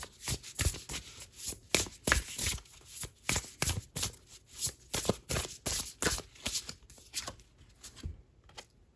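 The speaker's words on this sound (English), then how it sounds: "I do want to pull a card here." Tarot cards being shuffled and drawn by hand, a steady run of crisp riffling slaps and flicks close up, alone with no talk.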